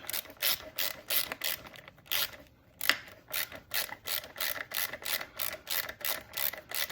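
Ratchet wrench tightening a long bolt on an Africa Twin DCT foot shifter, a steady run of close, loud pawl clicks in quick regular bursts with one brief pause, no talking.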